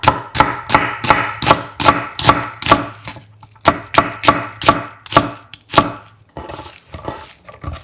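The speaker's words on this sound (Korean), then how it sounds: "양파 1개는 살짝 굵게 채 썰어" A knife cuts one onion into thick strips on a board, a quick run of sharp, evenly spaced chopping knocks, close and loud, pausing briefly before a few final cuts.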